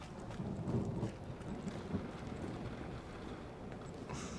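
Thunderstorm outside in The Medium horror game: low rumbling thunder over steady rain and wind, a dense continuous wash of noise with no voices.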